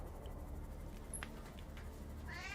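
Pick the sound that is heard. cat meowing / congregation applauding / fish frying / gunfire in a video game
cat meowing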